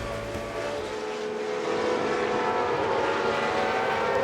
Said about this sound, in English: Fantastic sight and sound of a Cosworth-engined Formula One field lapping around Silverstone